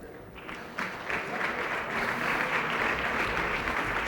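An audience at a panel discussion on long-term care technology breaks into applause, a dense patter of clapping that builds within the first second and holds steady, with a voice heard faintly near the start.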